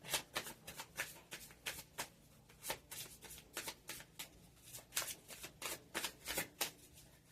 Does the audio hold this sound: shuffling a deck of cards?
yes